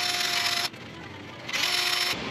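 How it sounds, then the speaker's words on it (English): Power drill with a number 8 bit drilling out a rusted, broken heat shield bolt on a Subaru WRX bugeye; two bursts of high whining cutting close by, separated by a brief quieter pause, no talk. "This is a number 8 drill, which is 199."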